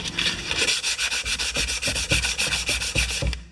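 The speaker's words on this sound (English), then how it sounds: "we'll try some 220, see if that works." Rhythmic back-and-forth sanding of a Homelite lawn mower shaft with 220 grit sandpaper, close and loud, with roughly twenty quick even strokes and no talking.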